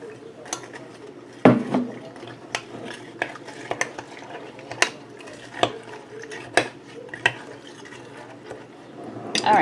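Metal spoon stirring cookie pieces into a strawberry ice cream mixture in a bowl, producing a steady run of scraping and clinking taps against the bowl, fairly close, with no talking.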